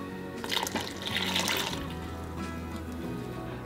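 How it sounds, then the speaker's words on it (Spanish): Water poured into a pot of simmering mole sauce made with masa, a brief close splashing gush that tapers into a soft trickle over a steady cooking hiss. "Le ponemos un poquito más de agua."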